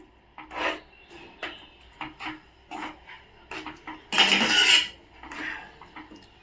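Potato curry gets mixed in a pan with a spoon, giving a series of short scraping strokes against the metal and one longer, louder rasping scrape partway through, close up with no talk.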